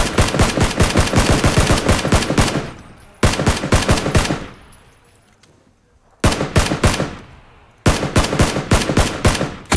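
Rapid automatic gunfire in PUBG in four long bursts, loud and close, with short quiet gaps between volleys and no talking.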